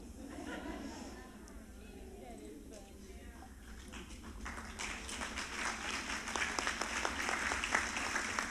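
Wedding guests break into applause after a toast, with clapping swelling from scattered taps into a fuller round over murmured chatter in the room.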